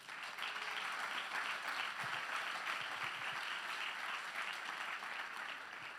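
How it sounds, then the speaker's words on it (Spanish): Sustained applause fills a church congregation, a dense steady wash of many hands clapping at even loudness for about six seconds with no talking. "Dale un fuerte aplauso al Señor."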